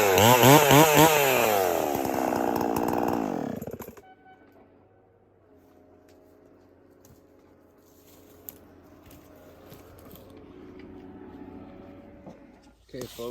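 A chainsaw used for logging and timber falling roars loudly for the first few seconds, then cuts off, leaving faint woodland ambience with a few quiet knocks and light handling sounds.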